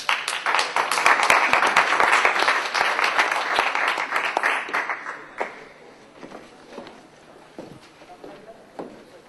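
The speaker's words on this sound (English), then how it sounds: "Can we please welcome him with a round of applause?" A conference audience applauds to welcome a speaker to the stage, a dense loud burst of clapping that thins out after about five seconds into scattered individual claps.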